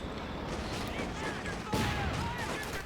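Battle din from Company of Heroes 2 with a Panzer IV firing on infantry: rapid bursts of machine-gun fire and heavier tank shots overlapping at a moderate distance, in continuous layered crackling.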